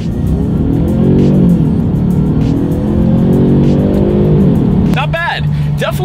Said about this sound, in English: let's do a quick little acceleration test in the new 2019 Genesis G70